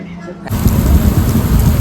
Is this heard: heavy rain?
yes